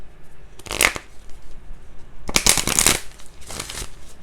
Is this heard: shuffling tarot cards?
yes